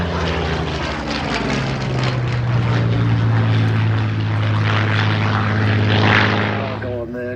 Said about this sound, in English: Back to the Spitfire.